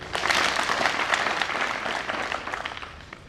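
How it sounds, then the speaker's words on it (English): Audience applause at a graduation ceremony for Nairobi Technical Training Institute, a dense, steady wash of many hands clapping that tapers slightly toward the end, heard on its own. "let's give her a small applause"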